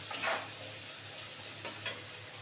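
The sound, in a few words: onion frying in pan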